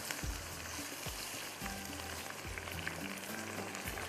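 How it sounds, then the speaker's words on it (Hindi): Green chilies and eggplant sizzling in oil in a home kitchen pan, a steady close crackling fry with scattered pops and no talk. "हरी मिर्च और बैंगन को हम फ्राई कर लेते हैं।"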